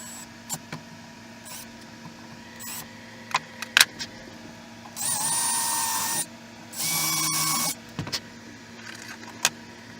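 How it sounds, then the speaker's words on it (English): A power drill whirs in two short, steady bursts, drilling pilot holes for an RV bed frame's hinges, separated by a pause, with faint clicks and handling noises around them in a quiet room. "Drill a little pilot hole."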